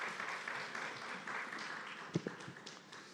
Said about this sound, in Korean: 귀한 박수 하겠습니다